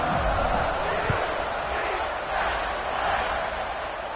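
Stadium crowd noise at kickoff in EA College Football 26, a steady dense roar of cheering fans that holds at an even level throughout, with commentary voices underneath.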